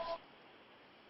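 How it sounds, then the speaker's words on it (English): A mobile phone goes off in a podcast studio with a single short electronic tone at the start, then fades into quiet background hiss. "that's my phone going off"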